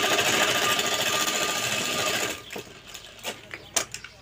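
A sewing machine runs loud and steady for about two seconds while stitching a kurta pocket, then stops, followed by a few faint clicks and handling noises up close.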